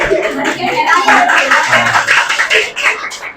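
Students clap in a classroom in a loud, uneven patter, with a voice talking over it and mixing closely with the claps throughout.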